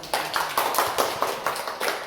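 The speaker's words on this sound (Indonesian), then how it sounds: "Oke, tepuk tangan" A small group claps in a classroom or tutoring session in Indonesia, giving about nine brief, fairly even rounds of hand claps close by, with no talking over them.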